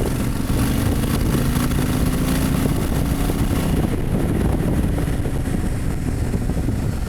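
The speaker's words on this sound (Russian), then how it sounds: "Машем встречному мотоциклисту и пробуем ускориться." A Honda VTX1300 motorcycle accelerates on the road with a continuous, dense engine roar and wind noise that stays steady and close throughout, with no voices.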